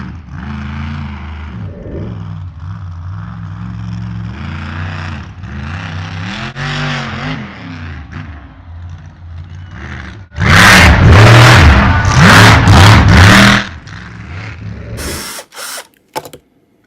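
Drill bit grinding through the die-cast metal posts of a toy monster truck, with low mechanical whirring early on, then a loud burst of harsh drilling in the middle before it cuts off into a few brief clatters.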